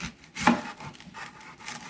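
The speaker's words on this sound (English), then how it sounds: "chop up the onion, and this onion is really hard to cut" A knife cuts through a hard onion on a cutting board, giving one sharp, loud chop followed by softer scraping and rubbing strokes, close by with no talking.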